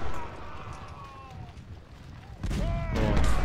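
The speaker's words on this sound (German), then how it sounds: "Kanonen, feuert doch mal." Cannon artillery firing in Ultimate General: Civil War, with a heavy thump partway through lifting the din of battle to a louder roar that continues afterward, amid musketry and a faint whistle.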